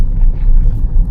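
A car rolls over a speed breaker in second gear, heard from inside as a loud low rumble with uneven bumps, close and without any voice over it.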